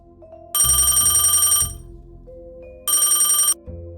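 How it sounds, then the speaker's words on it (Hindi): A loud electronic mobile phone ring sounds in two bursts, the first longer than the second, with a low steady hum beneath. "तभी उसका फोन बजा।"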